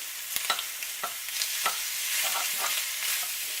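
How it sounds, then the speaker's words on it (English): Sausage sizzling in a buttered pan while a knife scrapes and stirs through it, giving a steady hiss broken by several sharp metallic clicks and scrapes, close and alone with no voices. "Yeah, I'm using a knife to stir."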